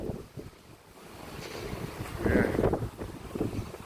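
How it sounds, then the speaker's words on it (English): Strong wind gusting by a bay, buffeting the microphone and a fishing rod in low roaring surges that build louder midway, with a brief voice heard. "The wind is blowing crazy like you can see there, look. That's an example of the wind."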